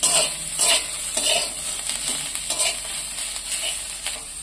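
Onions and pointed gourd frying in a pan, giving a continuous loud sizzle broken by rhythmic scraping strokes of a spatula, heard up close with no voices.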